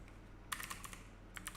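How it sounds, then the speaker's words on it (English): Typing on a computer keyboard during a live coding session: two short bursts of crisp, close keystrokes separated by a brief pause, with no speech. "I'm typing in the wrong place"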